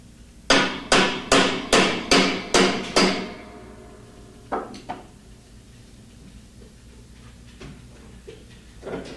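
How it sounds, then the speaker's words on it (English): Seven sharp metallic hammer strikes on a hex wrench, loosening a large hex nut during a top-load washer transmission replacement, ring out in a quick, even rhythm, followed after a pause by two lighter taps and a final faint one. "Remove the large hex nut using part number 306P4 hex wrench and a hammer"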